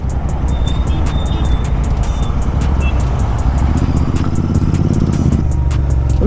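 Steady, loud road traffic with cars, motorcycles and other vehicles passing close by on a Sunday, continuous engine roar and tyre noise with occasional horn-like tones, no talk.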